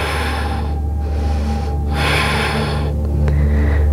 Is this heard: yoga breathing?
yes